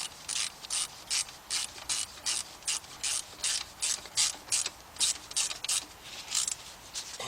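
A ratchet tightens a bolt on a Volkswagen Beetle engine during head gasket and timing belt work, giving a steady series of about eighteen loud, close clicking bursts in even rhythm with no talk.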